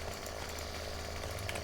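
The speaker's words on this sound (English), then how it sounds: "How you like my chainsaw?" Chainsaw in the video game 7 Days to Die, a steady, buzzing engine drone held at an even level throughout the brief moment, no talk.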